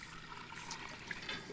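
Milk and heavy cream pour steadily into a pot for a brief, soft continuous trickle, with no talking.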